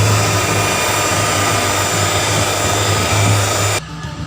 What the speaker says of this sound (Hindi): अब हम इसमें वनीला एसेंस ऐड कर देंगे और इसको बीट कर लेंगे